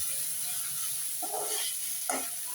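Chopped okra and tomato sauté in a pan for vendaikai kaara kuzhambu, a faint, steady sizzling hiss with a couple of brief stirring scrapes partway through.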